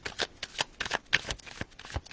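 Oracle cards are shuffled by hand for a card reading, giving rapid irregular papery riffles and slaps, close and fairly quiet, with no voices.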